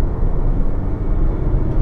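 Mercedes GLA with a DCT transmission at a roundabout, a steady loud low engine and road rumble heard from inside the cabin, with no clear change in pitch.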